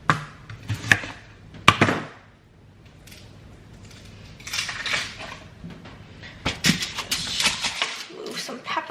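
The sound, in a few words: chopping onions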